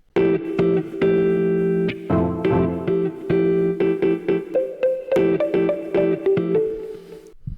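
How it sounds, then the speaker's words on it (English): Electric guitar notes ring out one after another, washed in heavy reverb and echoing delay that smear each note into a long shimmering tail. "we're going to play the guitar with loads of reverb and some delay, crush delay"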